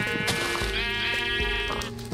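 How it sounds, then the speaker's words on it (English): Sheep in the Minecraft Sevtech Ages modpack bleating loudly and nearby, a couple of drawn-out wavering bleats in quick succession with no talk over them. "Can we cast like an aura of silence on these sheep or something?"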